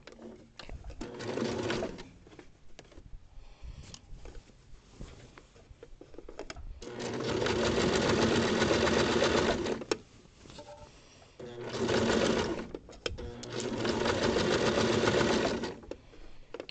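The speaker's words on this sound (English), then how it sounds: "I'm just going to backstitch in the exact same spot so that I completely close up this seam" A sewing machine stitches and backstitches a lining seam in several loud, steady, whirring runs with short pauses and quieter clicks between them, heard close and alone.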